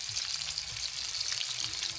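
A hilsa fish curry fries in a pan while being stirred, a faint, even sizzle with light scraping strokes recurring every half second or so, and no voices.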